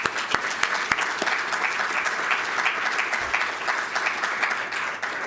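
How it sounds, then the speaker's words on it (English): Conference audience at an innovation event breaks into sustained applause, dense continuous clapping throughout with a few sharper individual claps standing out. "So huge round of applause to the previous section."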